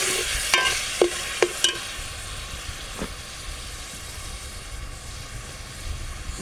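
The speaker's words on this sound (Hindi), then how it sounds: "अब हम इसमें डाल रहे हैं अदरक लहसुन का पेस्ट।" Ginger garlic paste frying with onions in a pan for chana dal, a steady loud sizzle with a few sharp clinks of a spoon stirring early on, then continuous frying hiss.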